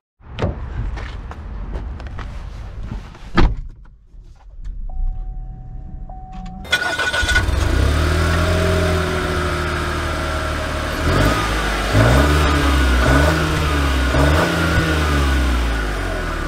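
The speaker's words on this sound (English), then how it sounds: "Let's take it out and see how it drives." A 2022 Buick Encore GX Essence is heard as a few faint clicks and knocks, a short quiet pause, then the engine catching and settling into a steady running hum with several gentle swells of revving as the car pulls away.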